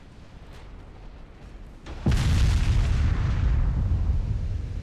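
A heavy naval gun shell slams into a warship in the naval battle game Ultimate Admiral Dreadnoughts: one loud, deep boom that bursts out after a low rumble and rolls on as a sustained roar.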